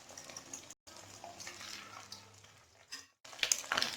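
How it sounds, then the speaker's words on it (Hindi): Eggs frying in oil in a pan for a street-style burger, a steady close sizzle with stirring and scraping, briefly cut off twice, then louder bursts of crackle and clinks near the end. "अंडों को यूँ फ्राई करके जब थोड़ा कलर आ जाए निकाल लीजिए"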